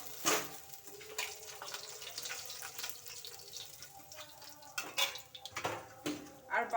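Fried parshe fish being lifted out of a pan into another dish in a home kitchen, with clattering utensil and dish knocks and some watery washing sounds, moderately close and quiet under a background voice.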